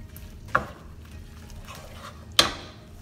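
Bella mushrooms sauté in butter in a pan, a soft low sizzle broken by two sharp scrapes or clacks of a utensil stirring against the pan.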